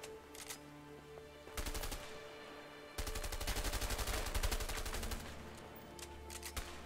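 Gunfire aimed at the player in the video game A Way Out, with rapid automatic bursts rattling in several long volleys, close and loud, separated by short gaps and with no talking.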